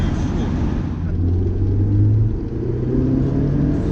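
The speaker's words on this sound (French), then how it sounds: "Tu sens vraiment le turbo s'enclencher." A Lancia Delta Integrale drives with its turbo engaging, filling the cabin with a continuous loud engine rumble that rises in pitch toward the end.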